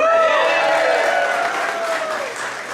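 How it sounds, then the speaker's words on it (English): A dense round of audience applause at a legislator of the year awards ceremony, steady and loud throughout with a voice faintly audible beneath the clapping. "How about a round of applause for the fabulous Jen Payne?"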